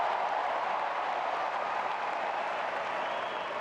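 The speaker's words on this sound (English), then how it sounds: "Crowd applauding the effort from both," At the 2024 US Open men's final between Sinner and Fritz, a large tennis crowd applauds in a steady, dense wash of clapping that stays even for a few seconds, with no voices standing out.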